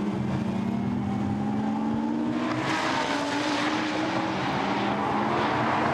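Lamborghini Super Trofeo race car at Misano accelerating away, a loud sustained engine roar with pitch rising steadily through the gears, continuous and close, no voices.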